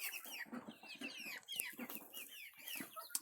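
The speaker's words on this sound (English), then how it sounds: "Got some baby chickens, and that's a baby guinea." Baby chickens and a baby guinea fowl on a small farm, a quiet busy chorus of rapid high peeps and chirps overlapping continuously, close by, with soft scratching and pecking beneath.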